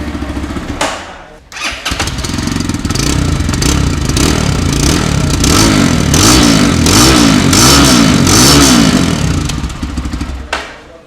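FKM Street Fighter 165R motorcycle with a dual-barrel exhaust, started and revved loudly up close, the engine rising and falling in repeated throttle blips before settling.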